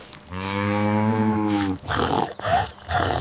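A dog lets out a long, steady, low-pitched growl lasting over a second, followed by several rougher, shorter growling snarls, close and loud.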